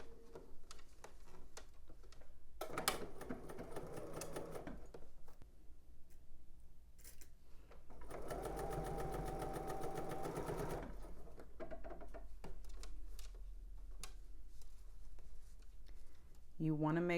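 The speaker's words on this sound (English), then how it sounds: "All right, so I'm stitching 1/2 inch around the neckband." A home sewing machine stitches a half-inch seam around the neckband of a knit tank dress, running in several bursts with quiet pauses between, the longest steady run in the middle, while someone talks over it.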